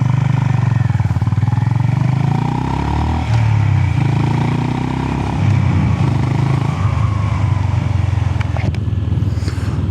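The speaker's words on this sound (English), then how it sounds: "350cc with a sound like a big motorcycle." A Honda GB 350 S, a 350cc single-cylinder classic motorcycle, thumps and revs loudly on a ride, its deep engine note rising and falling with wind rush and clatter.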